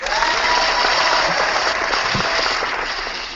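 A podcast host gives his co-host Gamer Nick a hand clap, a continuous burst of applause-like clapping through the whole stretch, dense and fairly loud.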